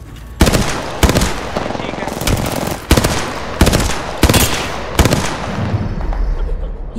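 Loud automatic gunfire in Apex Legends comes in several hard bursts spread across the clip, with the echo ringing between the volleys. Nobody talks.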